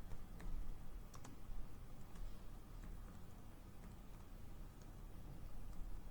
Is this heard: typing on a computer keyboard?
yes